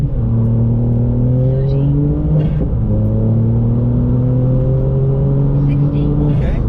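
A VW Up GTI with 155 bhp revs its engine, its pitch rising and falling in repeated sweeps at close range. Loud wind or road noise sits underneath, and brief voices come through.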